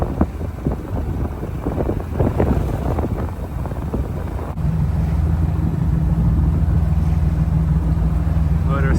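A sailboat motor-sails under engine and wind, wind noise and rushing water at first, then a steady low engine hum that comes in about halfway and continues.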